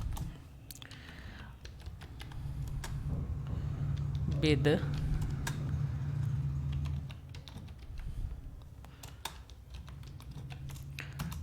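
A computer keyboard is typed on in quick bursts of sharp clicks as a search is entered, fairly quiet, under a man's speech and a low steady hum.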